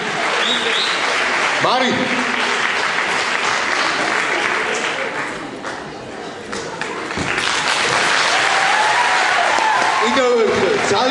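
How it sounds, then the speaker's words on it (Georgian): An audience at a Tushetian evening event in Kvemo Alvani applauds loudly and steadily. The clapping is close and sustained, dips briefly midway, then swells again while a person speaks over it. "კიდევ ერთხელ ძალიან ყველაზე დიდი აპლოდისმენტები"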